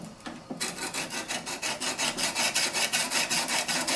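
A woodturning skew chisel is drawn against a sharpening surface to flatten its bottom and cutting edges, making a steady run of about sixteen rasping strokes, loud and close with no talk.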